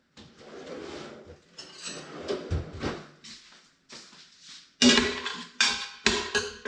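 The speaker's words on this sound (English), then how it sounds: "Grab a spoon." Metal cutlery and a drawer clatter in a home kitchen while squash and sweet potato soup is being made, with a series of short rattles and clinks that grow louder and sharper toward the end, close by.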